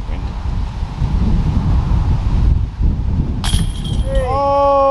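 Strong outdoor wind buffeting a microphone on a disc golf course, a steady low roar for several seconds, then bright metallic chain clinks and ringing tones near the end.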